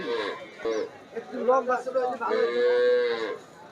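A black cow being led away from a Gazipur cattle market lows in drawn-out, close calls, with people talking around it amid market bustle.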